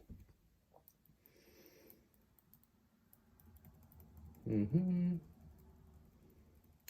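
Fingers tap briefly on a computer keyboard, a few soft scattered clicks near the start before a person's voice speaks over the quiet room.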